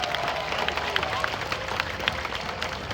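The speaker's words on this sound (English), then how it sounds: "How about a big round of applause for Subi and Nico" Audience applause and crowd noise for performing sea lions Subi and Nico at a marine animal show, a steady patter of many hands clapping at mid distance with some cheering mixed in.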